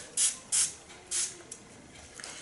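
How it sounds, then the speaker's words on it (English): Three short hissing spritzes of leave-in conditioner from a spray bottle onto 4C hair, close and crisp, followed by fainter softer sprays. "the fact that I'm using a spray. And I'm just spraying all around"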